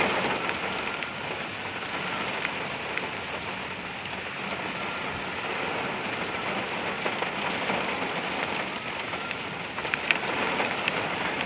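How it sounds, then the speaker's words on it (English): Heavy derecho storm rain in Oklahoma, driven sideways in sheets by gusty winds: a dense, steady roar of downpour hammering surfaces, continuous and loud throughout with no voices. "you can see the sheets of rain going sideways."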